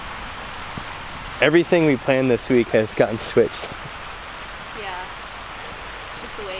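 Steady rain hisses in the background while a person talks briefly over it.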